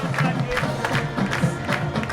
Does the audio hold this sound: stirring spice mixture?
no